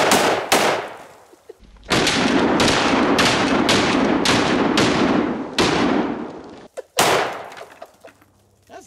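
An AK-47 rifle fires outdoors in loud, sharp bursts: two single shots, a rapid string of cracks over several seconds, then a few more shots with echoing tails and no talking.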